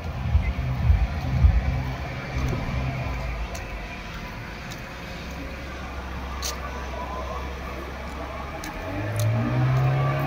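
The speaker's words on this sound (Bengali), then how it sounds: "স্পিড বোট চলে যাচ্ছে, স্লো করে দেখাচ্ছে সবাইকে যে কি কি আছে" A speedboat motors past on open water near a small island, its engine a steady mid-pitched drone that swells louder at the start and again near the end, with wind and water noise underneath.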